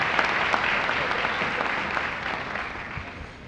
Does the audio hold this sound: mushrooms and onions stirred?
no